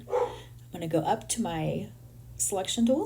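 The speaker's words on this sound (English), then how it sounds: "I'm sorry if you can hear my dogs barking in the background" Several dogs bark indoors in the background, a few short yaps scattered under a man's continuous speech.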